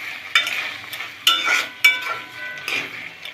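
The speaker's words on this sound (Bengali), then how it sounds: "আবারও ঢাকনাটা উঠিয়ে নেড়ে নিব।" A spoon scrapes and clacks against a pan while a curry of flat beans and garlic is stirred, with several sharp metallic knocks amid soft sizzling, close and alone.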